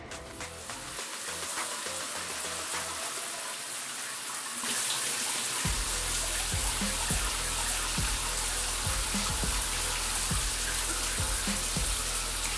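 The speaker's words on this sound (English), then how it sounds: "keep the shower running so for you guys can hear that" Shower water running steadily during a hair wash, a continuous hiss that grows louder midway, with occasional soft knocks and splashes, no voices.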